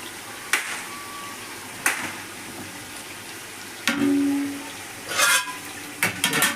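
A chicken masala for an Eid mandi cooks in a pan on the stove, with a low steady sizzle broken by occasional spoon scrapes and stirring clinks, close by and without talk.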